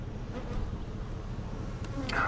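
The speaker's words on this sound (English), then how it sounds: "Lots of bees in here" Honey bees hum inside an opened beehive box, a close, steady buzzing drone with faint handling noises and no talk.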